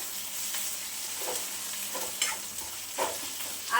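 Ginger, garlic and chilli paste sizzles with fried onion in a pan, a steady close frying hiss broken by occasional scraping stirs of a spoon.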